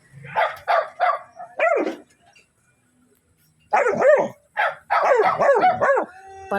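A dog stuck in a motorcycle sidecar gives loud, close barks in quick clusters, separated by a short quiet gap.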